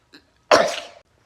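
A single sharp, explosive sneeze bursts out close by after a faint inhale, then tails off quickly into silence.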